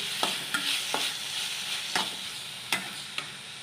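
Tomatoes frying in a pan on the stove, with a steady sizzle under a spoon that stirs or scrapes the pan in sharp knocks about every second.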